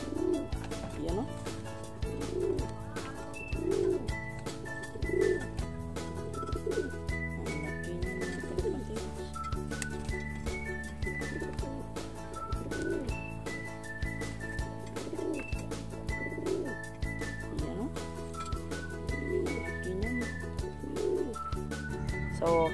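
Pigeons coo repeatedly in soft, rhythmic bursts at close range over a steady background hum, with bird chirps scattered throughout.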